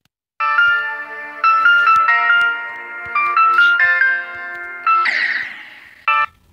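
Chiptune-style synth melody playing in a custom video game level, bright beeping notes in short phrases separated by brief gaps, clear and close with no voices.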